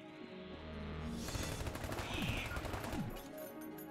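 Enemy gunfire in the modded roguelike shooter Enter the Gungeon: rapid bursts of synthetic shots and impacts layered over game music, steady and fairly loud throughout.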